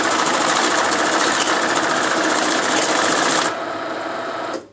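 A banknote counting machine riffles quickly through a stack of single bills with a fast whirring flutter, then drops to a quieter mechanical hum before stopping. No voices are heard.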